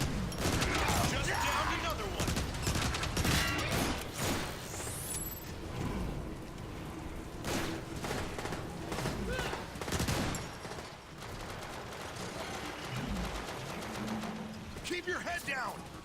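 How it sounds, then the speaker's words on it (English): Photon Burst Rifle fire from the video game Transformers War for Cybertron crackles in quick repeated bursts over a dense, loud game soundscape, with voices mixed in. "obviously we're going to shoot them in the head,"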